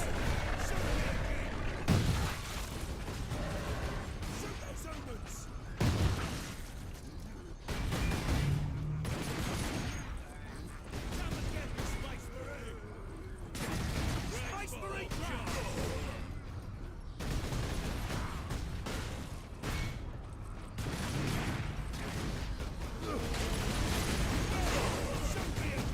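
Bomb squigs blow up in the Space Marine video game, bringing repeated heavy booming blasts and gunfire that run almost without a break, loud and dense, with a player's voice faintly under the din.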